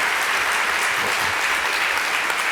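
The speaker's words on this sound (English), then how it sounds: "Give her an applause" A large conference audience at a general session claps steadily and densely throughout, a loud, even wash of many hands with no pauses.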